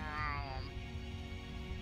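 A person imitates a cat's meow with a short, rising, wavering mewing call over a steady low background hum, heard briefly and fairly faint.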